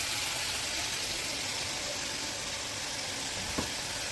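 A constant soft sizzle of spice paste with ground cumin frying in a pan for a fish curry, fairly quiet and steady, with a faint scrape of stirring near the end.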